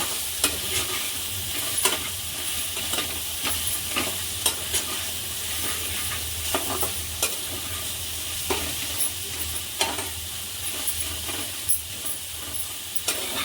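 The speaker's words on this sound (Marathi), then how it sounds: "भेंडी छान मिक्स करून घ्यायची गॅस मंद करायचा मंद गॅसवर ही भेंडी करून द्यायची" Okra (bhindi) stir-fried with a pinch of turmeric over a low gas flame, giving a steady soft sizzle with frequent spatula scrapes and knocks against the pan.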